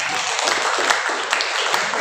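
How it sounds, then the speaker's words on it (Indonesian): Audience applause at a school training session, a steady broadband wash of clapping from a crowd that holds for the full two seconds with no lull. "tepuk tangan untuk kita semua"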